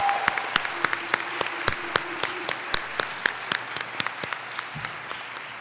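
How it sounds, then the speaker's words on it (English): Steady applause fills a college convocation hall at a Martin Luther King Jr. Day event, many hands clapping at a moderate distance with sharp individual claps standing out, and no talking over it. "can we give another round of applause, a special one for Rebecca Evans for organizing that"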